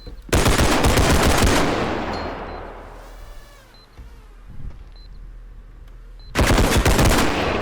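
Bursts of rapid automatic gunfire in the shooter game Bodycam, loud and close, open and close the clip, with a quieter stretch of game ambience and faint tones between them.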